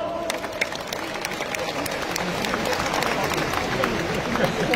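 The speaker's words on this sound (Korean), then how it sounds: "다시 한번 큰 박수 부탁드립니다" Crowd applause in a hall after the announcement of the Democratic Party of Korea leader election result, a steady dense wash of clapping throughout with some crowd noise mixed in.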